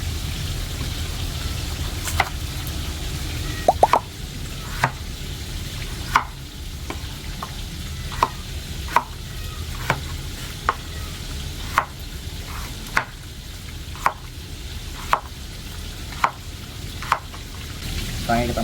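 Chicken frying in a pan gives a steady, dense sizzle throughout, with regular light clicks of stirring or utensil taps every second or so, and a person talking quietly over it.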